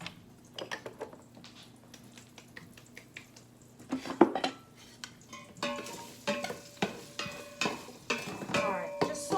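Vegetables for soup sauté in a pot, a soft sizzle under repeated stirring clicks and scrapes of a utensil against the pot, growing busier and louder in the second half.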